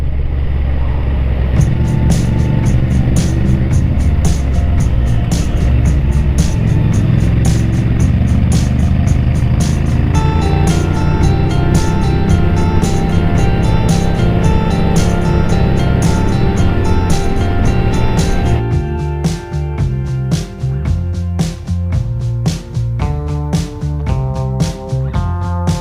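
A motorcycle rides across open country roads over the hills of Somerset toward Thruxton, its engine a loud, steady drone mixed with rushing wind, shifting pitch partway through.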